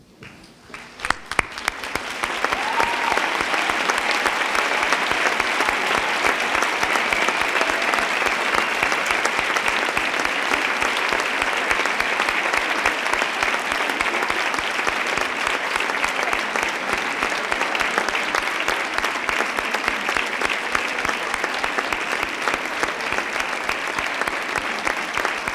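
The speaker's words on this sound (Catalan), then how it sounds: "vos aixequéssiu i els féssiu un fort aplaudiment" A standing audience at a university graduation ceremony breaks into long, strong applause, dense and even for over twenty seconds with rhythmic clapping edges.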